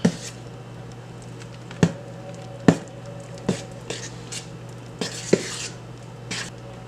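Batter for a Barbados black fruit cake being mixed in a bowl, with a spoon knocking against the sides in irregular clinks and scrapes, close and fairly loud, with a steady hum underneath.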